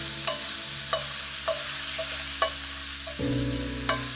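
U21/25 shrimp sizzle in a hot pan while being flipped, a steady hiss broken by about six sharp utensil clicks at an uneven pace, with a low hum underneath.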